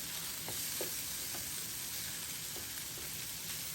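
Garlic fried rice sizzling steadily in a pan, a constant bright hiss with a few soft scrapes and taps as it is mixed, fairly quiet and without talking.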